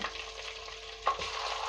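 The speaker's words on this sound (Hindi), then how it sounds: "लहसुन और अदरक को सौते कर लेना है।" Chopped garlic and ginger frying in hot oil in a home kitchen, giving a soft steady sizzle with faint stirring scrapes, fairly quiet and with no voices.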